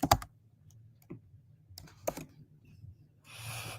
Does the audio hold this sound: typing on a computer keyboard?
yes